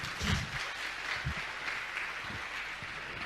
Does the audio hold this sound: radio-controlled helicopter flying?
no